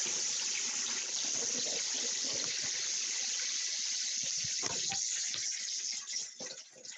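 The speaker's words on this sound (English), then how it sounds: "And I'm gonna let it run under cold water." Cold tap water runs steadily over cooked tapioca pearls in a kitchen sink, a continuous close splashing gush for most of the clip that turns uneven and trickles near the end.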